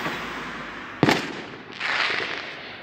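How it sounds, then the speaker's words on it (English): Bonfire night fireworks bursting outdoors, with one sharp loud bang followed by a crackling, fizzing burst a moment later, all over a continuous background of distant pops and crowd murmur. "we're having fireworks time. Because it's bonfire night. And we're listening to lots of bangs,"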